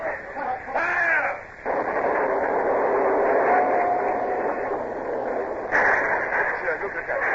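Sailing-ship cannon fire in a radio naval battle drama booms as a broad, sustained roar beneath shouting crew voices, with a voice breaking in at the start and again near the end.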